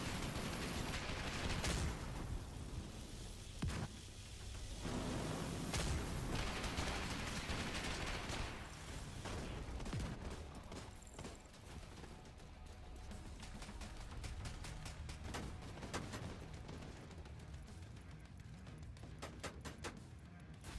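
A Gatling gun fires in a video game boss fight against the Iron Horse, a dense, rapid stream of gunfire mixed with impacts and mechanical game noise, fairly quiet overall.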